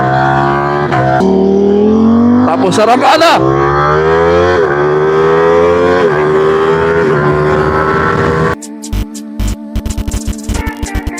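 A motorcycle engine idles and revs close by, pitch rising and falling through several throttle blips, then choppy sputtering bursts near the end, with a brief voice.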